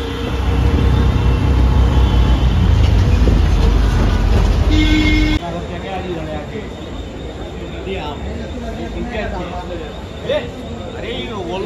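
Inside a crowded passenger train, a loud steady rumble of the carriage with dense background chatter, then a quieter stretch with voices and clatter continuing close by.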